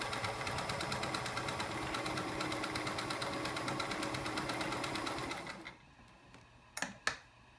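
A vintage Sears Kenmore 158.14300 heavy-duty sewing machine runs a buck stitch with a fast, steady mechanical whir and ticking for several seconds, then stops. A few soft clicks follow.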